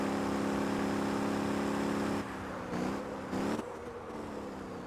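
A video game car in Motor Town: Behind the Wheel runs a lap, engine droning steadily at high revs, then dropping and surging in short bursts as the driver lifts off and reaccelerates.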